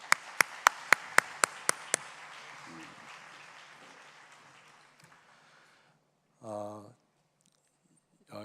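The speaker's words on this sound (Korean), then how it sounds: "박수 해주시기 바랍니다." During a church service, a congregation claps in a steady, rhythmic beat of about eight crisp, evenly spaced claps under looser applause, which dies away into near silence, followed by a brief burst of voices and sounds.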